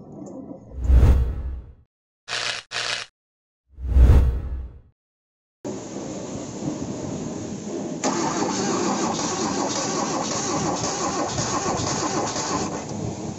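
A Kia Cerato engine with no compression cranks in a few short bursts without catching, separated by brief silences, followed by a steady hissing whoosh that continues.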